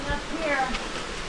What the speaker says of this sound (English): Busted pipe.